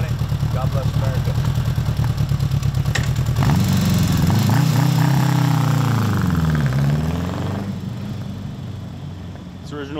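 A 1979 Honda Goldwing GL1000 with its original exhaust system runs steadily, the engine note rising and shifting mid-clip before settling back, loud and close throughout.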